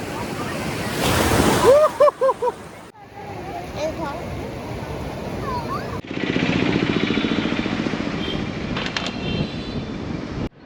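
Sea waves wash in at Digha beach with a broad, steady roar of surf and wind, broken by abrupt cuts between takes, while a voice talks over the first few seconds.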